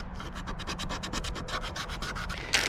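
Sandpaper scrubs over cloudy, crazed plastic on a Yamaha Wave Raider speedometer gauge in quick, even back-and-forth strokes, close and fairly quiet, ending with a brief sharper scrape.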